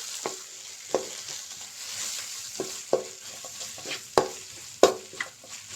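A spatula stirs an egg rice mixture with tomato and other sauces in a pan: a soft sizzle runs underneath while sharp scraping and clanking strokes land every second or so, close and distinct.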